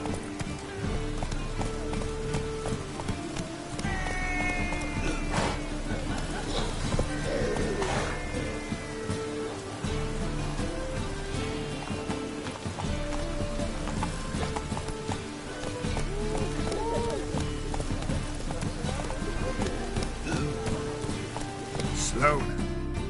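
The horse Roach galloping in The Witcher 3, steady rhythmic hoofbeats with jingling tack running throughout, while a voice speaks briefly over the game sounds.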